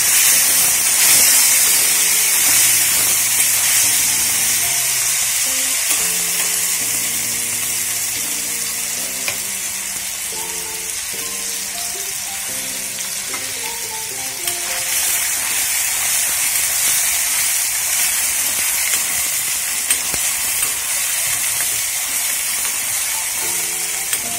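Chopped tomato sizzles with browned onions in oil in a pan, giving a steady, bright frying hiss that runs continuously and fairly close, with a background tune playing underneath.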